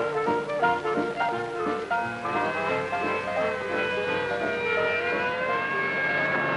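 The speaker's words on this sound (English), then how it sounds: "An ambulance heading for General Hospital and not a minute to lose." A wailing ambulance siren rises and falls over a dense music score, steady and prominent throughout with no talking.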